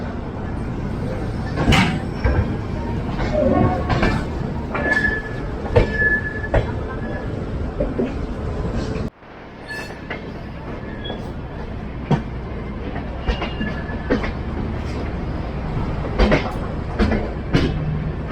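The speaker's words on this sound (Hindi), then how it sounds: "निर्धारित समय से 1 मिनट की देरी से अपनी संपूर्ण क्रांति निकल चुकी है न्यू दिल्ली रेलवे स्टेशन से।" The Sampoorna Kranti Express pulling out of New Delhi railway station, with rumbling wheels, rhythmic clacks over rail joints and occasional squeals, loud and close, dipping briefly midway before the rolling noise resumes, with some talk mixed in.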